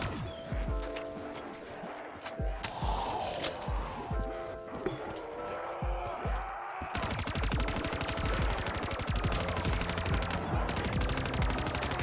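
Gunfire in a Call of Duty Zombies match comes in rapid automatic bursts. It grows into dense, continuous firing in the second half, loud and close.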